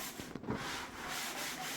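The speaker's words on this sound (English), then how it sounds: "Sanding today on the inside." Sandpaper is worked over oak cabinets indoors in steady, close rubbing strokes, a continuous raspy hiss with no talking.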